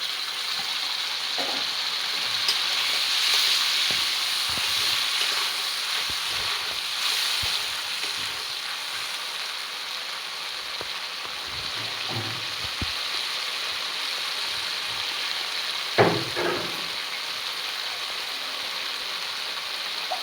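Spice paste sizzling in a frying pan while cooking bottle gourd with prawns, a steady close hiss that continues for the whole stretch, with brief stirring scrapes near the end.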